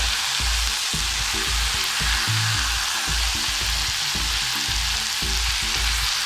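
Vegan sausage frying in a pan, with steady loud sizzling throughout and soft knocks of a utensil stirring and scraping underneath.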